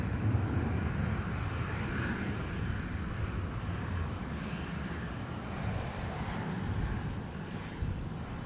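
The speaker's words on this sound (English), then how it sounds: "straight in front of us, Qantas Flight 528, a Boeing" A Qantas Boeing airliner passes a planespotting spot with a steady, distant jet roar. The broad rumble holds at a fairly low level throughout, with no voices over it.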